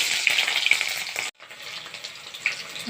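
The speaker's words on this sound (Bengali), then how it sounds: "আমার কড়াইয়ের তেল গরম হয়ে গেল তো এখানে প্রথমে আমি পাঁচটার মতো তেজপাতা দিয়ে দিলাম এখন আমি পেঁয়াজটা দিয়ে দিলাম" Onion with bay leaves sizzles loudly in hot oil in a kadai, a close bright hiss that cuts out for a moment and then resumes more softly.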